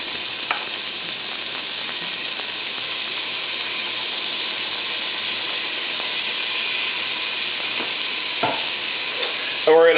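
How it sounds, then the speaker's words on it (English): Diced onions and minced garlic stirred in melting butter over medium-high heat: a constant bright sizzle with a rhythmic scraping and clicking of the spoon against the pan, close and steady, ending in a short clatter with no voices. "stir this up until the butter is melted, so we can get the onions real soft and tenderized"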